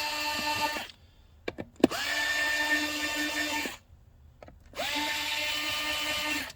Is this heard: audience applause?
no